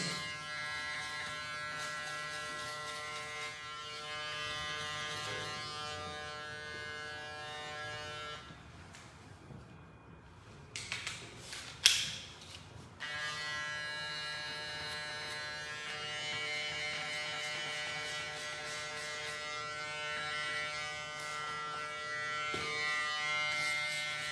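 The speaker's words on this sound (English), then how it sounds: "Just go back over with the trimmer." An electric hair trimmer buzzes continuously during a men's clipper haircut with short layers and a fade, a steady close whine that briefly drops and shifts midway before resuming.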